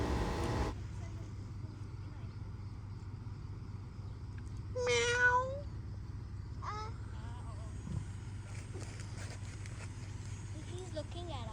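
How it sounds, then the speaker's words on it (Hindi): A cat meows a few times at middle distance over a steady low hum of outdoor ambience, with brief human sounds and faint background activity around it. "बहरहाल ये बिल्ली बहुत प्यारी थी।"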